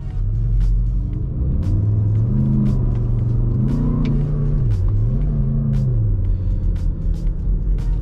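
Skoda Kodiaq RS with the 2.0 BiTDI 240 hp diesel, 4x4 and DSG gearbox on a road drive, a loud deep engine rumble rising and falling through several gear changes under steady road noise, no talk.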